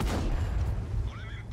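Tank gun firing in World of Tanks from an AMX M4 49 Liberte, a heavy booming shot at the start with a rumbling low tail that fades out, faint game sounds following.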